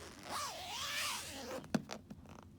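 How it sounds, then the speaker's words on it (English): A zipper runs along the vinyl outer bag of a Hoover Convertible U4349 upright vacuum, a rising, wavering zip lasting over a second, then a sharp snag and a few quick scratchy tugs, close and alone. "the outer bag zips from the bottom"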